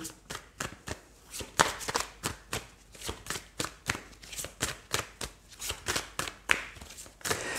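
Oracle cards are shuffled close up in a steady rhythm of roughly twenty crisp, papery bursts, each quickly following the last, with no voices.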